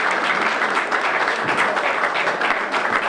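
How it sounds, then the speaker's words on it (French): A room full of people applauds at the Paris opening of an ECAir airline agency, welcoming the Franco-Congolese artist Passy with dense, continuous clapping that holds evenly throughout. "qui est ici, que je vais vous demander d'applaudir."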